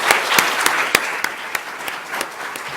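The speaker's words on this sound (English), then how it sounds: "I think we should give them a round of applause" Scattered, sparse applause from a small audience at a school board candidate forum, with distinct individual claps standing out against a soft background wash of clapping.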